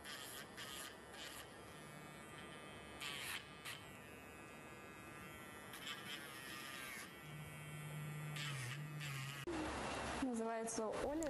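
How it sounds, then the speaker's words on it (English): A nail grinder buzzes steadily as it buffs a golden retriever's claws during show grooming, a close electric whine that rises and falls with contact, with voices heard intermittently. "now I'm going to buff the claws with a nail grinder"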